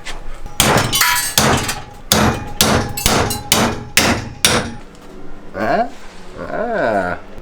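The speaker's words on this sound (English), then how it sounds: "let's go hit it with a hammer one more time." Repeated hammer blows strike a metal radiator bracket on a budget street-legal racecar build, about eight loud sharp clangs in quick succession, followed by a brief whirring tool sound.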